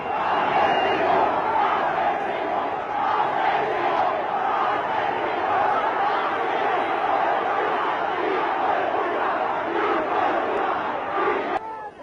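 Large crowd gathered outside number 10 Downing Street, a loud continuous roar of massed voices cheering and shouting, sustained and dense from start to finish.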